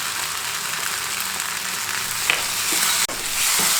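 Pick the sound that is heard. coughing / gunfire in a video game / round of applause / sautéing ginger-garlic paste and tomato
sautéing ginger-garlic paste and tomato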